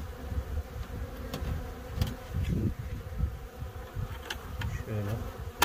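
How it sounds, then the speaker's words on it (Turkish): Honeybees carrying crocus pollen on their legs crowd at a hive entrance, a close, steady buzzing drone with wings whirring as they try to get inside. "burada ayağında çiğdem polenleriyle gelmiş arılarımız kovana girmeye çalışıyor"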